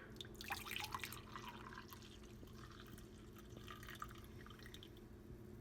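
Freshly brewed coffee poured from a handled pot into a cup, a steady close trickle and drip of liquid over a low continuous hum, with no talking.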